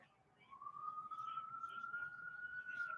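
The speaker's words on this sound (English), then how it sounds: "A lot of sirens going by tonight." Emergency vehicle sirens passing by at night in New York, a single rising then sustained wailing tone heard faintly from a distance over quiet room noise.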